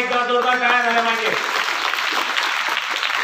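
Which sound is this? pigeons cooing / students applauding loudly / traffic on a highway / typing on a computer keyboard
students applauding loudly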